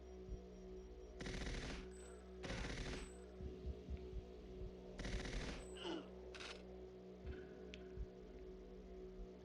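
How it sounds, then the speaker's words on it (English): Bursts of automatic gunfire in the Xbox 360 game Goldeneye XBLA, several rapid volleys of a second or so each, loud and close, with scattered single shots and game effects between them. "There's somebody shooting at me."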